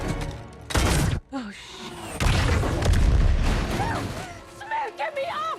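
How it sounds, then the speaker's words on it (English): A rocket shot and explosion in the Netflix sci-fi film Atlas, with loud booming blasts and rumbling debris among mechanical whirs, and voices speaking over the later part. "the super advanced Casca AI then misses a rocket shot at a stationary giant"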